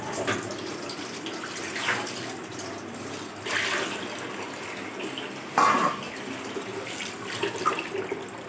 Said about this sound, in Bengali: তো চলো এটা ধুয়ে নিব